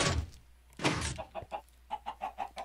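Minecraft chickens cluck in a quick run of short, evenly spaced bursts, close and clear, after a couple of louder thumps at the start.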